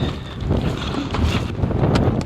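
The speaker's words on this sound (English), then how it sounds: "It's windy, as you can see." Loud, gusty wind in hard rain buffeting the microphone, with a rough, rumbling roar and a few sharp rattles throughout.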